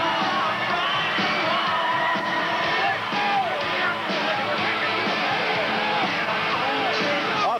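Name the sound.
wrestling crowd cheering for Hulk Hogan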